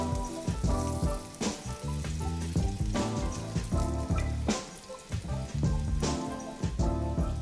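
Bermuda fish cakes fry in hot oil after being flipped, giving a dense, continuous crackle and sizzle that stays loud and close throughout.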